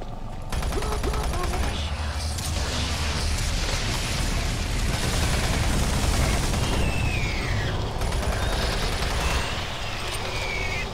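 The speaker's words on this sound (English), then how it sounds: "This can be a very dangerous room, so I like to use the machine gun" Continuous automatic fire from a machine gun in Doom 3, a dense rattling burst that runs steadily through the whole stretch amid game ambience and mechanical noise, with no pauses.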